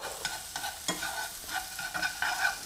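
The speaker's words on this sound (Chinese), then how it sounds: "再搅拌一下" A spoon scrapes and stirs vegetarian bok choy dumpling filling, seasoned with salt and pepper, in a pan over low heat. The strokes are repeated and uneven, close and fairly quiet over a light sizzle.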